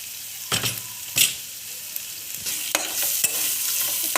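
Spices for paneer masala are stirred and fried in a pan, a soft steady sizzle broken by a few scraping stir strokes, close and alone with no talk.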